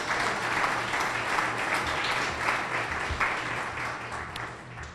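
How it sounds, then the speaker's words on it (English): Audience applause at a biotech expo for the host, New College of Florida, a steady, even wash of clapping from a sizeable indoor crowd, tapering slightly near the end. "I think they deserve a round of applause."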